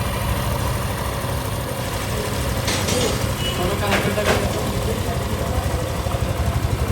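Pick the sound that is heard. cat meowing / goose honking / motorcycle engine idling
motorcycle engine idling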